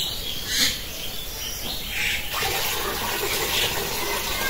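Rice and lentils for khichuri are rinsed together in water, giving a steady wet sloshing and splashing with birds chirping in the background and no talking.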